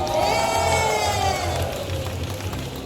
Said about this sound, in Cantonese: 他很努力，給他掌聲